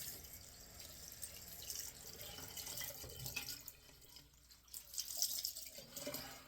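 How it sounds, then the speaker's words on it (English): A tap runs into a bathroom sink after a shave, a soft steady flow with drips and splashes that is fairly quiet and close, with no talking. "Now I will run some water for this."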